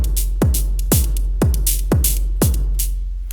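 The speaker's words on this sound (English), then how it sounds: "the kick sound you're hearing is from Shakmat's battering ram" A modular synth drum pattern with a Shakmat Battering Ram kick: five deep, punchy kicks land at a steady half-second pulse, each with a falling pitch sweep, interleaved with bright hi-hat-like noise hits, close and loud with no talk.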